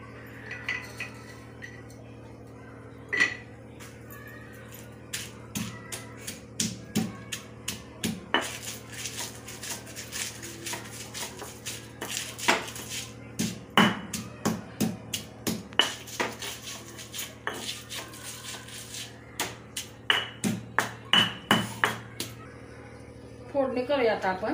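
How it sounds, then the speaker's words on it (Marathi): Garlic and green chili being crushed with coarse salt in a home kitchen, heard as a long run of sharp, irregular pounding knocks on a hard surface that quicken toward the end, close and fairly loud over a steady background hum. "आता हे लसूण आणि मिरची चेचून घेते"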